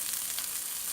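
Zucchini sizzles and fries steadily in a hot pan for a frittata, a continuous bright hiss with faint crackle, close and even throughout.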